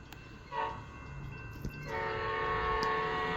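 Amtrak locomotive 8306, fitted with a P5 horn, blows a loud, sustained multi-tone chord that begins partway through after a quieter rumble of the approaching train, with faint rail noise underneath.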